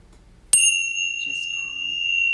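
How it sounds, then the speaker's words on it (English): A single bell struck once in a quiet meditation setting, a bright sharp ding that rings on with a steady sustained tone, loud and close, with no talking over it. "It's going to ring the bell."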